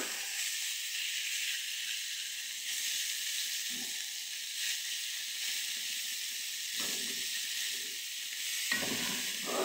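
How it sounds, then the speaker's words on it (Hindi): Aloo palak curry reheating in a hot frying pan on a switched-off stove gives a steady, close sizzling hiss throughout, with a few soft stirring scrapes and no talking. "फ्राई पैन गर्म होगा तो फिर सालन गर्म होगा"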